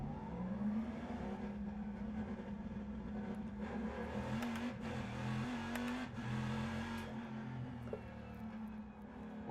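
Engine noise from a racing simulator game plays as laps are driven, a steady droning roar with rising and falling pitch through shifts and corners, continuous and fairly faint, with no talk.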